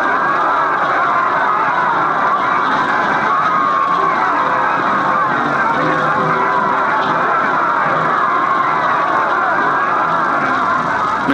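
A basketball crowd at a 1943 St. John's College game cheers and rises to its feet, a dense steady roar of many voices and shouts that stays loud and continuous throughout.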